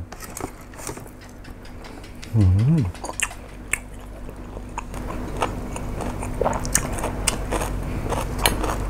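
Chewing on sun-dried Thai pork, moist bites and crunchy mastication close to the mic, with a short hum of enjoyment from the eater partway through.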